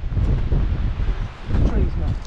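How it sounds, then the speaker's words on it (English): Strong wind buffets the microphone on a hillside in the Cheviots, a loud low rumbling roar in gusts, with people talking underneath. "Everywhere's gonna be as windy."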